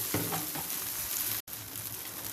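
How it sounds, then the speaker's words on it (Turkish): Vegetable patties fry in just a little oil, giving a steady, close sizzle and crackle that fills the whole stretch, broken only by one brief gap. "Farkındaysanız kızartırken çok az yağ koydum."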